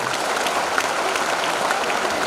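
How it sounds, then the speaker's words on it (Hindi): Sustained applause from an audience at a school annual function, dense steady clapping that fills the whole stretch without pause, fairly close and even in loudness, with no voices standing out. "एक बार जोरदार तालियां बजाइए।"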